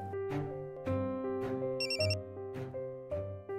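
Phone ringing on an outgoing call in a Marathi TV serial: a repeated electronic ringtone of short tonal bursts with a brief higher beep pattern midway, moderately quiet, with no talking.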